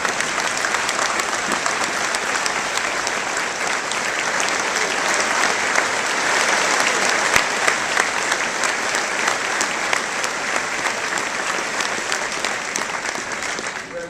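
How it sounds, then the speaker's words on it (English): A commencement audience at Central Michigan University applauds Dr. Richard Allen, a large crowd's sustained, even roar of clapping filling a big hall for about fourteen seconds without letting up. "Can you please stand up and give that guy the appreciation he deserves, a round of applause?"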